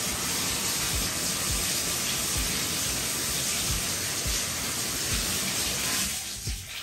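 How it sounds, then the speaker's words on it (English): Water runs from a bathtub tap into a tub with the stopper in, a loud steady gushing rush that holds evenly before easing near the end. "It just says run the water"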